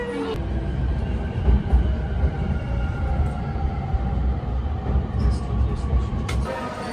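A train in Japan rumbles steadily, with rolling rail noise and occasional squeals and clanks, while voices murmur in the background.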